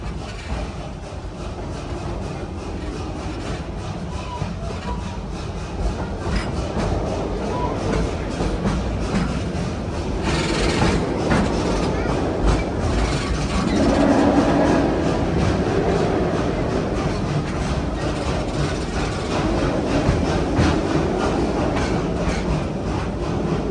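Steady rumble and rhythmic clatter from inside the Serengeti Express ride train at Busch Gardens Tampa Bay passing a closed station, wheels on track continuing throughout, swelling slightly louder midway.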